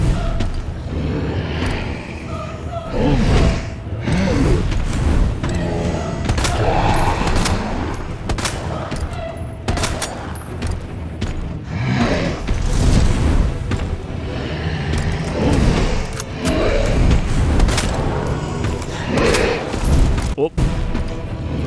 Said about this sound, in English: Should be shooting him in his heart.